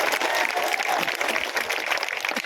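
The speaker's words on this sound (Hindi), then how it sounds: "उनके नाम पे जरा जोरदार ताली बजा करके स्वागत करूंगा" A village crowd claps at an outdoor political gathering in Akhri, Varanasi, a dense steady applause lasting throughout, fairly loud and close, with no voices rising above it.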